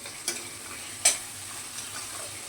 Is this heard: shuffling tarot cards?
no